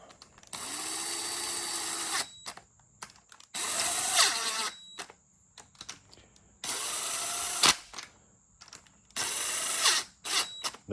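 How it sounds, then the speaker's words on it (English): A ratchet tightens 12mm bolts on a B20 VTEC turbo engine under assembly, with four separate loud bursts of rapid mechanical whirring and clicking broken by short pauses. "I finish them by hand with a ratchet. So let's go ahead and get the 12mm."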